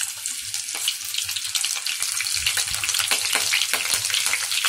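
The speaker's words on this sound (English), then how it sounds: "I'm adding shahi jeera, that's splattering" Shahi jeera seeds splatter in hot oil for a mutton handi, a loud, close, continuous crackling and popping sizzle with dense sharp snaps and no speech.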